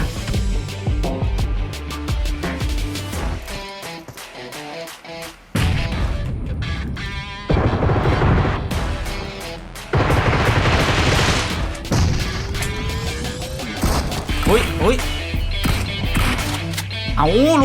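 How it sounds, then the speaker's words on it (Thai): Explosions and bursts of gunfire in the zombie mode of PUBG Mobile 2.8.0, loud repeated booms and rapid shots with brief quiet gaps, a voice talking over parts of it. "โอ้โหระเบิดมาระเบิดมา"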